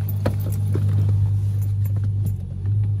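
An idling car engine fitted with a Powertune engine tuning module gives a steady low rumble up close, with a slight dip and rise near the end rather than a clear rev.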